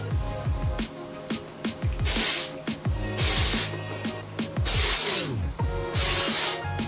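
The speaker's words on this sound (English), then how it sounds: "Get some dry shampoo and spray the entire wig." Several short hissing sprays of dry shampoo from an aerosol can onto a wig, close and loud, repeated in bursts with light clicks and rustling between them.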